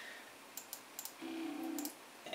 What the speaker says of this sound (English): I ended up clicking too far by accident.